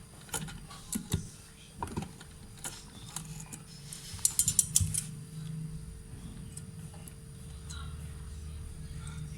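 A sewing machine stitches a seam on trouser fabric, its needle mechanism ticking and whirring in short irregular bursts with brief pauses, close and moderately loud, with a faint steady motor hum underneath.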